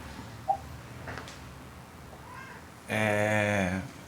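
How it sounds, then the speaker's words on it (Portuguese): A pet cat gives a long, loud meow close by near the end, after a few soft, faint sounds in a quiet room. "Meu gato."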